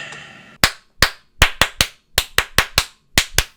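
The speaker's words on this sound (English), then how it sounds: "I like to do rhythm clapping." Crisp hand claps in a syncopated rhythm, about eleven sharp claps in quick bursts with short pauses, close and loud after a faint lead-in.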